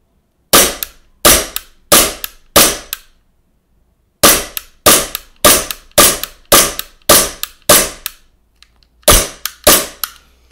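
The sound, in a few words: Glock 19 Gen4 gas blowback airsoft pistol firing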